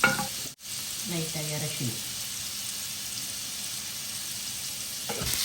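Prawns fry in butter with a steady, close sizzle that runs throughout, while a voice speaks briefly over it near the start.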